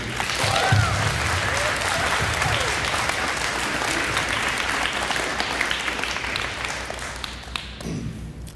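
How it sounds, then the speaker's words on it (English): Loud, steady applause from a large crowd at a school event, dense clapping that holds for several seconds and thins slightly toward the end. "So I think we should give him a big round of applause too."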